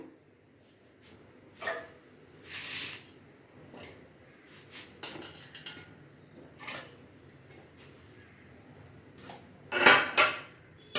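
A metal lid set onto a cooking pot of lentils and vegetables, with scattered clinks and scrapes of pots and utensils and a louder clattering pair near the end as the lid settles, in a quiet kitchen.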